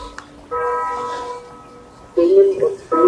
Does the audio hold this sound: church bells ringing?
yes